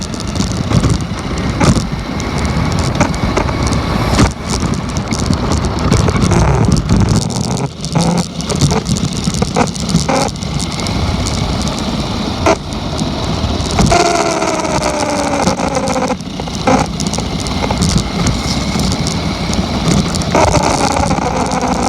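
Two Sears Lobo 5 and Road Rat RC toy cars, one on 49 MHz and carrying a camera, race with a continuous loud rushing whine and rattling rumble up close, with the motor pitch shifting as they speed and turn.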